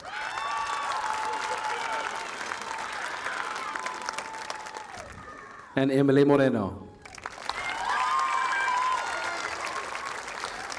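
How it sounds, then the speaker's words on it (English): A graduation crowd applauds the top ten seniors of a high school class, broad and steady, pausing briefly while a voice over the loudspeaker announces a name before the clapping swells again. "One more round of applause for our top 10 seniors."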